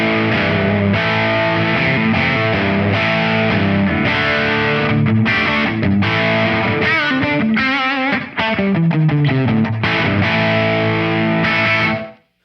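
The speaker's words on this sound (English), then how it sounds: "I'm using my Friedman twin sister, set to kind of dirty. And here's how it sounds." Electric guitar played through a Friedman Twin Sister amp set to a dirty, crunchy tone and a Two Notes Opus cab sim with slight slap echo, loud sustained chords and riffs with bends, ending abruptly.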